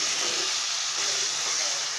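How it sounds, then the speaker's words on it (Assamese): Chicken sizzles steadily in hot oil with a paste of ginger, garlic and onion, a dense continuous crackle and hiss heard close up with no talking. "এতিয়া মাংসখিনি ধুনীয়াকৈ ভাজি আছোঁ"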